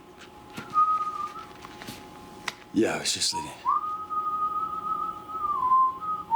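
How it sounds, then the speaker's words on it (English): Cheerful human whistling, a sustained tune heard fairly clearly, broken midway by a brief burst of noise and a short spoken line before the whistling carries on. "The cheery whistling"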